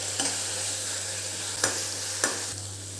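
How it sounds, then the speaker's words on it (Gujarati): Onion sautés in a pan, a steady close hiss of frying with three sharp scraping stirs spaced out over a few seconds and a low hum underneath, no talking. "આને 2-3 મિનિટ સુધી આપણે સાંતળીશું."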